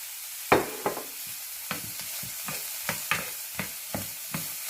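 Scallion, celery and onion sizzle in a hot pan for Japanese rice balls, with a steady frying hiss broken by a regular series of sharp stirring scrapes and clicks.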